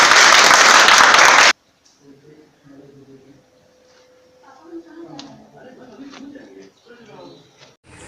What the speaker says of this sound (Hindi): उनका तहे दिल से जोरदार तालियों से स्वागत कीजिए।